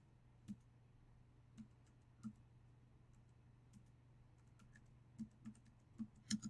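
Quiet computer keyboard typing, a handful of sparse, separate key clicks spread unevenly, with a quicker cluster near the end, over a low steady hum.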